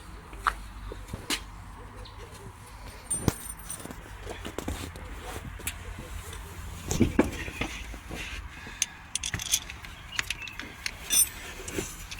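The timing belt tensioner bolt on an Opel Corsa, coated with thread-locking compound, is threaded in and tightened by hand. Sparse, quiet metallic clicks and ratchet taps sound close by against a faint background.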